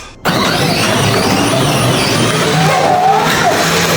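Boosted electric ride-on toy car with two motors on a 36-volt battery, about 900 watts, whirring loud and steady right after a sudden start, a continuous close motor roar that holds for several seconds.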